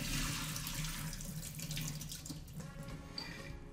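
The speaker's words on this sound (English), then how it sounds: "a rinse, and then I'll fill it up again with water." Running water pours steadily from a tap into a sink, rinsing soaking ingredients for raw sprouted hummus, with a continuous close splashing rush and no talking.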